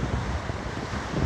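Waves wash in on a lake shore under strong wind, a close, continuous rushing surge mixed with wind buffeting the microphone.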